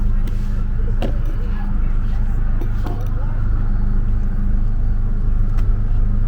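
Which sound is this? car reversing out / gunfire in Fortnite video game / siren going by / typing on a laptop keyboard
car reversing out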